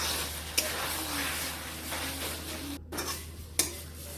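Gourd-shoot (lau) curry with mustard paste being stirred in a pan: a steady low kitchen hum with a few sharp metallic clinks and scrapes of a spatula against the pan, close by and fairly quiet.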